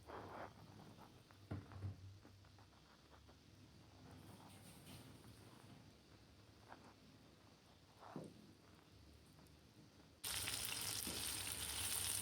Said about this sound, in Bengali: অল্প তেল দিয়ে আমি ভাজবো।